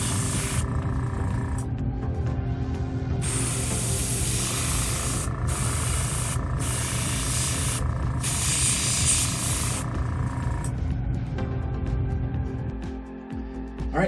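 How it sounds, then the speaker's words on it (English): An airbrush sprays red paint onto a model robot, a steady hiss that comes in bursts with short pauses between them and sounds close to the mic. "all of those need their final coat of red airbrush."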